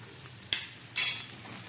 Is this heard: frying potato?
yes